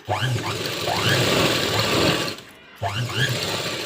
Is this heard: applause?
no